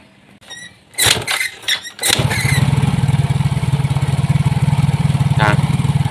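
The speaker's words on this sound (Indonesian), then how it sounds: "sekarang kita hidupkan motornya" A Yamaha Mio J scooter with an IAPS error is started in a workshop: a few starter cranks and clicks, then the engine catches and settles into a steady, close, loud idle with an even rapid pulse.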